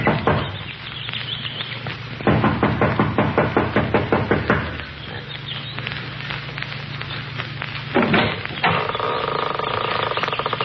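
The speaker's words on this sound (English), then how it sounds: "She knocks impatiently" Impatient knocking on the front door of a lodge, a radio drama sound effect: rapid, loud knocks in quick bursts, followed near the end by a sustained tonal sound.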